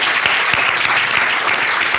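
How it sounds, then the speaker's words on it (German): Sustained audience applause at a panel discussion on rare diseases, steady and dense across the whole stretch, a hall full of clapping hands welcoming a panelist with no voices over it. "Grossen Applaus, herzlich willkommen."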